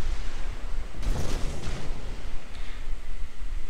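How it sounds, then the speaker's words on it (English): A torpedo salvo launches from the USS Benson destroyer in World of Warships, with a burst of whooshing bursts near the middle over a steady low rumble of naval battle noise. "so we're going to launch torpedoes."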